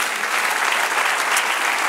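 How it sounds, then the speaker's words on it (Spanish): Brief, dense burst of congregational applause during a church sermon, a steady wash of clapping at moderate loudness. "Dan un aplauso al Señor"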